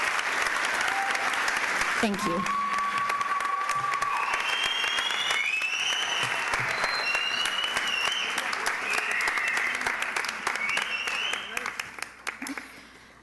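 Audience applause for graduates at a 2015 New Futures High School graduation ceremony, sustained broadband clapping filling the hall for most of the clip before thinning out near the end, with brief spoken thanks over it.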